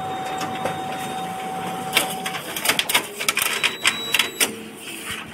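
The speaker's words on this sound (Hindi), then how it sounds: "अभी यहाँ से प्रिंट निकलेगा" A large ADF photocopier runs a double-sided print job, with a steady mechanical whir and a clear tone, then rapid clicking and clattering bursts from paper feeding and flipping.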